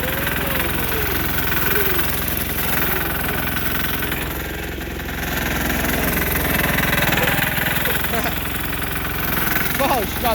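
A Sears Suburban garden tractor engine runs loudly and steadily nearby, a rough mid-pitched rumble with some knocking, while people talk over it.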